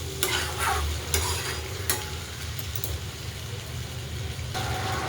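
Fresh cluster beans (guar) stirred and frying in a hot pan, a steady sizzle with a few sharp scrapes of the spoon near the start and again near the end.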